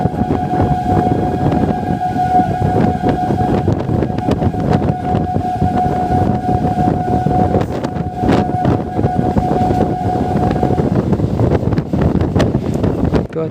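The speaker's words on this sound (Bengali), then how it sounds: "দেখো প্ল্যাটফর্মটা আসছে, কিন্তু ট্রেনটা এখানে না দাঁড়াবে না" A suburban train on the Sealdah to Canning line runs through a station without stopping, heard from on board as a loud, steady roar of wheels and rattling carriages with wind buffeting and a long sustained horn tone.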